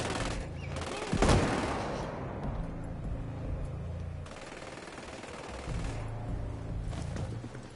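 Automatic gunfire rattles in the tactical shooter video game Ghost Recon Breakpoint. Rapid bursts come in several volleys, with one sharp, louder blast near the start and quieter gaps between firefights.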